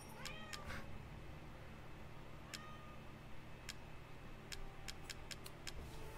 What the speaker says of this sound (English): My kitten is here.